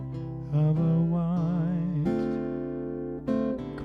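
An acoustic guitar strums chords in a few ringing strokes, with a sustained chord bending slightly in the middle, close and clear with no talking.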